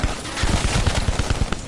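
Rapid video game gunshots crackle in a quick, dense burst of repeated cracks, loud and close throughout the short stretch.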